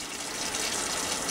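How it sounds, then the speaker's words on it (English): Hot water runs steadily from a tap into a sink for cast iron cleaning, a broad, even rushing hiss that continues without break and with no talking. "Let that water get nice and hot."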